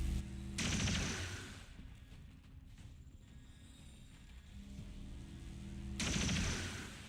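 Soldiers fire rifles in the XCOM 2 War of the Chosen strategy game, with two loud bursts of gunfire at the start and end and quieter rumbling battle ambience between them. No one speaks.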